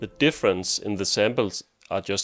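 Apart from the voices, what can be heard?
No everyday noise stands out behind the speech.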